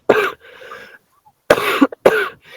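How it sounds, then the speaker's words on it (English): A sick person with a painful, sore throat lets out three separate harsh coughs, close and loud, with short silent gaps between them and a brief throat-clearing rasp. "I'm coughing a lot"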